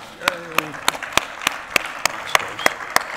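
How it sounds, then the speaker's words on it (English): Sparse, evenly spaced claps ring out at a steady rhythm, sounding like a small audience slowly applauding at a conference presentation, with a brief voice at the start. "So please give them one round of applause."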